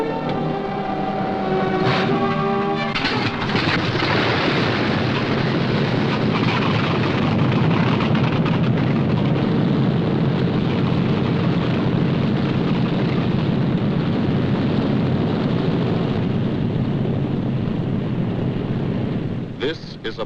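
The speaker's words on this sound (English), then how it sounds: "Only the roaring engine sound of the bombers pounding through the quiet English countryside." Deep, continuous roar of B-17 Flying Fortress bomber engines droning over the English countryside, loud and unbroken for about twenty seconds with a rushing, wind-like texture.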